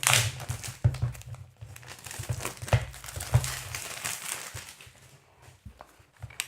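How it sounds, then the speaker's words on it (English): Packaging for an Apple Magic Trackpad 2 is handled and opened, giving close, soft crinkles, rustles and light tearing in uneven bursts that fade toward the end, with no talk. "So let's do an unboxing"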